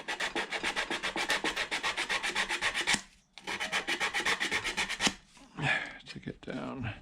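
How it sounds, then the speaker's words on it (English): Sandpaper of 80 grit rubs over a plywood keyboard case in fast, regular back-and-forth strokes, close and crisp. A brief pause breaks the run, then the sanding resumes, and scattered handling noises follow at the end. "that will probably need a bit of the old 80 grit to"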